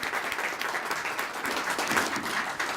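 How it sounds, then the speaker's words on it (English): Steady audience applause at a Temecula student-of-the-month ceremony as a speaker walks up to the stage, with many hands clapping together in an even, moderately loud wash and no one speaking over it. "Let's give her a round of applause."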